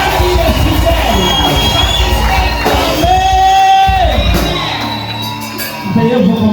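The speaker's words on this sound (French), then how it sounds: "Est-ce qu'on peut pousser des cris de joie? Pousse des cris de joie." Church congregation at a convention service shouting and crying out in joy, a loud continuous crowd roar of yells and whoops with one sustained voice rising above it, easing off slightly near the end.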